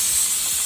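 A pressure cooker hisses out steam while food cooks in a cold, snowy hillside home kitchen, a brief, loud, steady jet of hiss with no talking.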